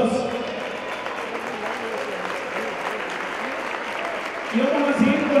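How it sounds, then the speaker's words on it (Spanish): Crowd applause at a club recognition ceremony, sustained clapping underneath an announcer talking over a loudspeaker, growing louder near the end. "Fuertes esos aplausos."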